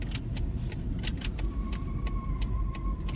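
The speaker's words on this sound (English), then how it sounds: "I don't know why my car makes that sound." A parked car gives off an odd, annoying sound: a thin whine that holds steady through the second half, over a low rumble and scattered sharp ticks and clicks.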